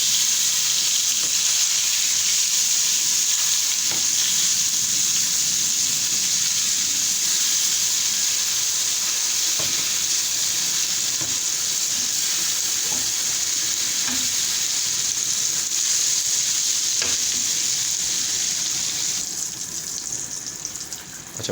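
Eggplant pieces for dry baingan masala fry in a pan with a steady, close hiss of sizzling oil throughout, punctuated by a few faint clicks, with no talking.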